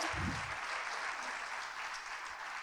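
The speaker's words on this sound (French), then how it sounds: "On va les applaudir." Steady applause from a crowd, dense clapping that fills the whole stretch at a fairly even level without letting up.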